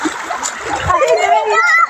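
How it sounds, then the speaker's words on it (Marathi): Water splashes repeatedly as people bathe in the Panchanadi river, with a voice and other voices talking and calling over the close, continuous splashing. "छान पाणी उडवते."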